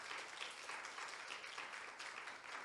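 A church congregation at a Sunday service applauding to welcome a visiting guest, a sustained round of many hands clapping at once, fairly distant and soft, with no talking over it.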